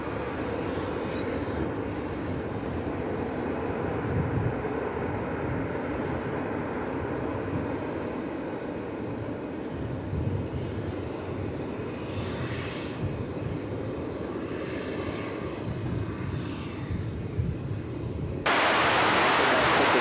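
An American Airlines Airbus A319 comes in to land at DFW Airport, its jet engines producing a continuous broad roar that holds steady before a sudden jump to a louder, harsher rush at the end.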